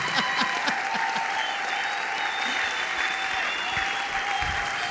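A church congregation applauding at a revival service, with sustained crowd clapping filling the room and a few louder nearby claps and short vocal bursts mixed in.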